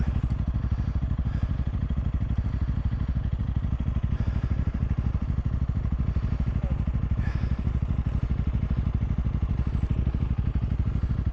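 An IBEX450 motorcycle engine runs steadily at close range on a woodland ride, a constant mid-pitched drone with mechanical clatter and no clear revving peaks across the whole stretch.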